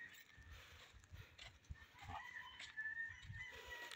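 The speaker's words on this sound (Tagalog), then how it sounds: "Pang farm talaga, tahimik, manok lang yung naririnig" Faint chickens cluck and call in the distance over a quiet outdoor farmland background in Bamban, Tarlac, with soft scattered bumps.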